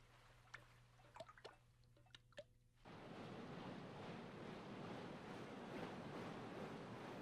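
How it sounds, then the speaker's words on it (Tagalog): A strong river current rushes loudly, a broad steady roar of water that swells in after a few seconds of quieter drips and knocks. "Ang lakas ng agos sa tubig, oh."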